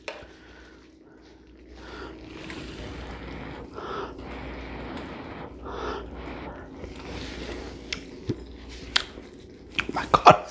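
Garlic butter shrimp being eaten: close, quiet biting and chewing with soft squishy mouth sounds, growing into sharper crunchy bites near the end.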